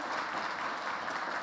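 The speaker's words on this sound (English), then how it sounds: "I just think she deserves a round of applause" Audience applause after a conversation about breast cancer research: steady, fairly faint clapping that holds evenly through the short moment without any other sound.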